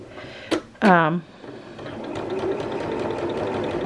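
A sewing machine runs a stay stitching line on a garment, its steady mechanical whir continuing evenly after a brief bit of talk at the start.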